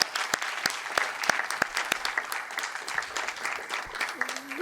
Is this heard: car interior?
no